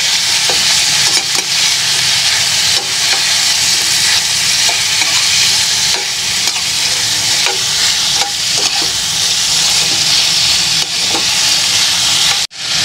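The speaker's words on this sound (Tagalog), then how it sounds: "Gisa-gisa lang ng mabuti mga idol para tanggal yung langsa." Field frog meat sautés in a hot pan with pepper, giving a loud, continuous sizzle and frying hiss broken by the scrape of stirring, with no voices.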